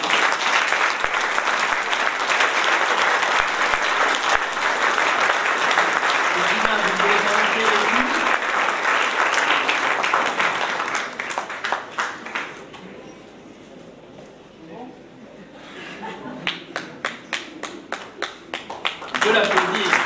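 Sustained audience applause fills a New Year's wishes ceremony hall, dense and steady at first, then thinning to scattered claps before a brief renewed burst, with some voices mixed in.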